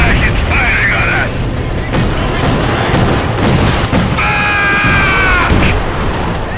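Gunfire and explosions in Company of Heroes 2, a dense continuous barrage of rifle and machine-gun fire with booms, loud and close, with unit voice callouts over the fighting.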